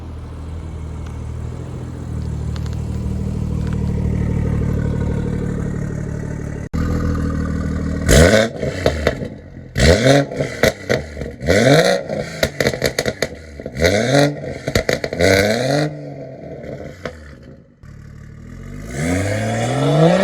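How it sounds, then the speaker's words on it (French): A BMW M140i with Stage 2 tuning, about 420 horsepower, idles with a deep droning exhaust and then revs hard in loud repeated bursts, with sharp crackles and pops between the revs, close and without talk. "Vous avez vu le son à l'échappement là, c'est n'importe quoi."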